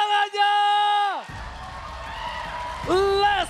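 Esports arena crowd at an MPL match (ONIC vs RRQ), a broad wash of cheering and applause swelling between bright tonal stings from the broadcast, heard at a moderate level.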